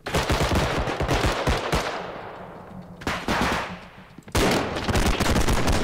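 Automatic gunfire in the video game Bodycam, loud, close bursts of rapid shots with brief pauses between volleys and no talk over them.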